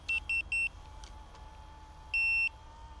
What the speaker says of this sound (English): We've got the transmitter beeping.